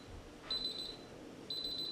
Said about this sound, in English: The lid will beep.